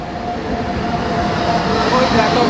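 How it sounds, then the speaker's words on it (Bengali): A train rumbles past a railway level crossing on a Dooars road, loud and close, with a continuous low roar and rolling wheel noise. "কারণ ট্রেন আসছে।"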